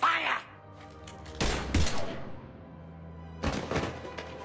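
Gunfire in the video game Mass Effect 3, with a few sharp, loud broadband blasts in separate bursts and quieter gaps between them, after a brief voice at the start.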